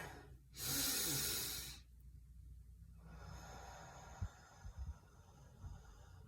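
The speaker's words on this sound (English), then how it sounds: "when I breathed out, it was longer" Slow breathing during meditation: one long, loud, breathy exhale lasting more than a second, close to the mic, then quiet with a few soft thumps.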